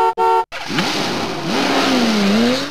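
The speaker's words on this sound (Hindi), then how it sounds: "आ गाड़ी भी आ गई" A car arrives with two short horn honks, then its engine revs up close by. The engine pitch rises and falls as it pulls in, loud and with no talking over it.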